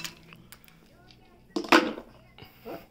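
Ice cubes drop into a glass of whiskey, a brief cluster of bright clinks and rattles near the middle, close and moderately loud, with quieter handling noises around it.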